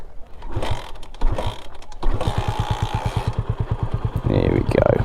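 A Honda CB250RS motorcycle engine cranks with a few clicking starter attempts, then catches into a steady, rapid single-cylinder idle pulse up close, with brief revs near the end.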